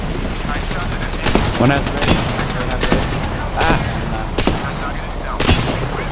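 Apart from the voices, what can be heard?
gunfire in Apex Legends video game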